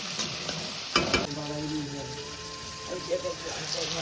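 Onion, tomato and green chilli frying in hot oil in a pan as spices go in, a steady close sizzle with stirring scrapes and a brief louder burst of spattering early on.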